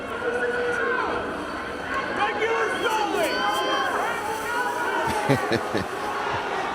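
Home crowd at a college wrestling dual meet, Pittsburgh hosting NC State, a steady murmur of noisy spectators with shouts and claps rising underneath a commentator talking throughout.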